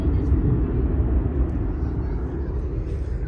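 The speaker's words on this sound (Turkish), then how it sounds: "Uçak gitti bak." An airplane passes overhead as a steady broadband rumbling roar with a continuous noisy wash and no distinct events.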